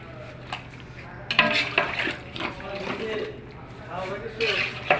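A spoon stirs spices into goat meat curry in a pot over a fire, giving uneven scraping and sizzling bursts while people talk nearby.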